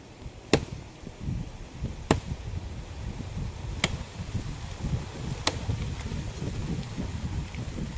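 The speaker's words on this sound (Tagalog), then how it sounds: "Lakas ng hangin." Strong wind buffets the microphone with a constant low rumble, broken by four sharp chopping strikes at uneven intervals.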